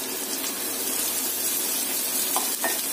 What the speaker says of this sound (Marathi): कांदा आपण व्यवस्थित भाजून घेऊया